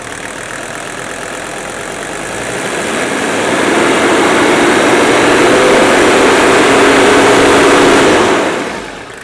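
A 1980s Mercedes-Benz diesel engine, with a rod knock fault, revs up from idle into a sustained loud, rough roar, holds there for several seconds, then drops back down near the end, heard close with no talk.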